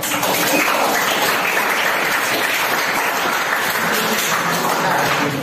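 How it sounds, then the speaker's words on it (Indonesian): Classroom applause for a student's persuasive speech practice, steady and dense, sustained at even loudness for the whole stretch with no voices over it. "tepuk tangan untuk"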